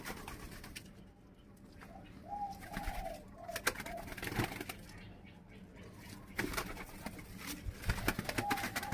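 Soft cooing from doves kept as pet or show birds, with a few faint calls over a steady background of rustling and small bumps, fairly quiet throughout.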